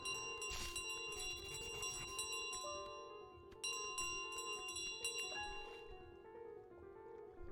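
A small handheld bell in Untitled Goose Game rings repeatedly as the goose carries it, bright metallic chimes in uneven bursts with gaps between, fairly close and alone.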